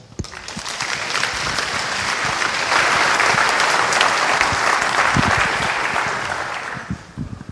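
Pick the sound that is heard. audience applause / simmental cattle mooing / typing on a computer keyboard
audience applause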